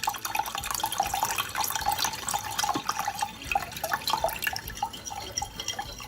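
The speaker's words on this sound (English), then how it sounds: "I have got another 1/4 of a pint of cold water here," Cold water runs into a jug in a kitchen, giving a steady splashing, trickling stream with bright droplet spatter throughout, near and moderately loud, with no voices.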